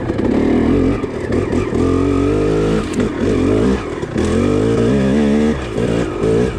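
A 2-stroke dirt bike engine labouring at low RPM in first gear up a steep slope, its close, loud buzzing drone wavering as the throttle opens and eases, with no talking.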